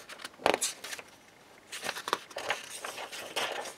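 Thin full-color paperback workbook pages rustle and flip in a few quick, soft bursts, close and fairly quiet, with no talking.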